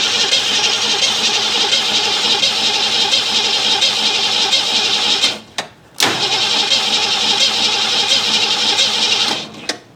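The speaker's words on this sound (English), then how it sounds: "gonna do is see if I can just get it running for a minute at least" A 1968 Ford Mustang engine, sitting unused for 43 years, cranks steadily on its starter while trying to fire, a continuous loud mechanical churn that breaks off briefly twice before resuming.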